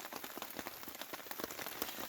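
Steady, dense patter of rain drumming on a camping tarp overhead, close and continuous, with no voices.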